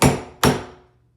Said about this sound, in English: hit it till the hole gets a nice concave